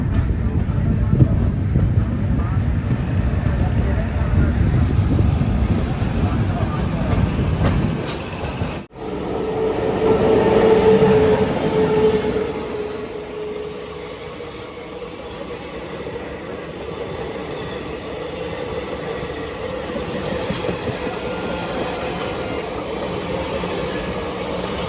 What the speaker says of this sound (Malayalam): ട്രെയിൻ ഇപ്പോൾ ഗരിയാർ റോഡ് റെയിൽവേ സ്റ്റേഷനിലേക്ക് എത്തിയിരിക്കുകയാണ്